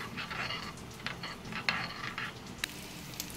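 Turmeric is stirred into pieces of mourola fish with a utensil, making quiet scraping and clinking against the pan and short soft scrapes over a faint background hiss.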